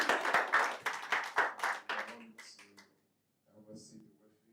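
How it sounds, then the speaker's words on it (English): An audience at an investment masterclass in Doha claps in a burst of sharp, rapid claps lasting about two seconds, then fades into softer sounds and a voice speaking. "Clap for him now."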